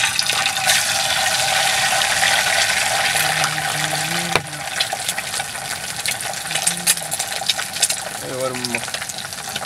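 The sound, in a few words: eggs frying in oil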